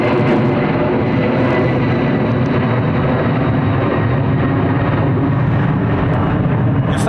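A jet airliner departs overhead from runway 09R at London Heathrow Airport, its engines producing a loud, continuous roar that stays steady and dense across the whole stretch with no talk.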